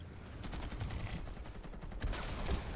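Bursts of rapid gunfire crackle and pop in quick clusters in the video game Planetside 2, fairly distant and muffled, with a louder volley toward the end.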